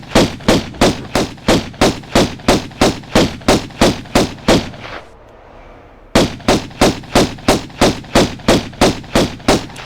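Rhythmic, loud gunfire in a video game at Palace Midas, steady shots fired at an even pace, then a brief pause, then the same regular volley resumes with no talk over it.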